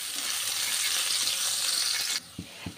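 Chopped garlic, onion and green chilies fry in hot oil with a loud, steady close-up sizzle that cuts off abruptly, followed by a couple of soft knocks.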